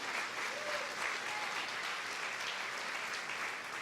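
A church congregation breaks into sustained applause, a dense even wash of clapping heard from some distance at moderate volume, with no voices over it.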